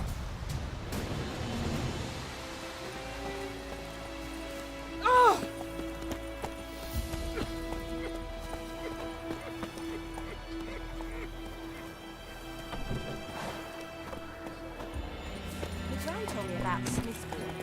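A horse gallops in The Witcher 3 video game with steady clip-clop hoofbeats under music and game ambience. Voices talk over it and a brief louder burst comes partway through.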